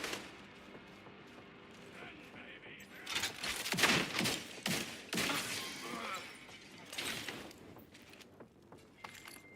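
Gunfire in the video game The Division 2, a cluster of sharp shots and bursts in the middle and a few later, fairly faint amid game ambience, with voices talking.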